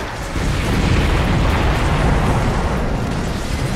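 In the video game Earth Defense Force 6, a building is destroyed by explosions, heard as a loud, continuous roaring rumble that swells up and holds for several seconds.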